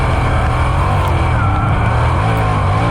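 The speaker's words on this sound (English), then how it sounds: "you can hear in the beginning, I'm just over throttling it" A winged sprint car engine roars loud and close on a Michigan race track, over-throttled in a continuous raw, rasping blare with no letup.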